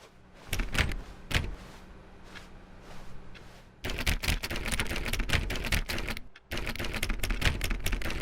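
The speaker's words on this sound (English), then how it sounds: "Why don't you go put 20 clicks into door number" Rapid clicking on a door in The Stanley Parable, quick crisp mouse-like clicks in dense bursts with a brief pause, loud and close with no talking.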